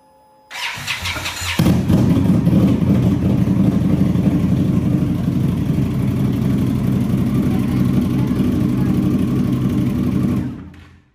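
A 2019 Indian Scout Champion trike with an aftermarket exhaust pipe starts up close by, catching quickly and settling into a loud, steady, deep idle rumble that holds until it cuts off.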